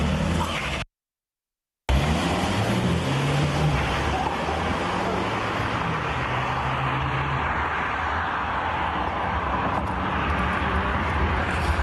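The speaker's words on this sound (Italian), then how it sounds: "Il rombo dei motori" High-displacement cars roar through a nighttime illegal street race in Altivole, a continuous loud engine rumble with passing-traffic character that runs throughout, broken by a brief dropout near the start.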